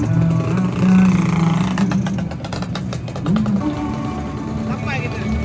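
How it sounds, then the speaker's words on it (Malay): A Yamaha RXZ motorcycle engine runs steadily at idle with a low, throaty hum, mostly under loud conversation from nearby people. "Motor sudah hidup."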